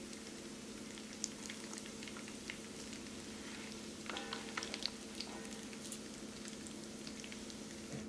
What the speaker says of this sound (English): So we're going to let that start frying up here.